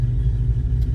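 Deep steady rumble from a car fitted with a TorqStorm TS84 supercharger on a stock-block engine, droning continuously as it builds boost, loud and close with no talk.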